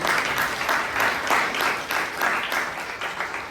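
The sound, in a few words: audience applause at a Toastmasters club meeting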